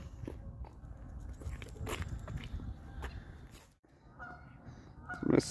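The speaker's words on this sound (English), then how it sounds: "So that goose is banded." A banded goose honks outdoors in a snowy setting, a few faint calls scattered through the quiet with a louder honk near the end, over light ambient rustle.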